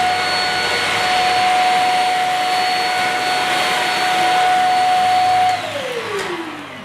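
A Shark Rocket stick vacuum cleaner runs on a bare floor with a steady, loud whine and airy roar, then winds down near the end as the motor slows.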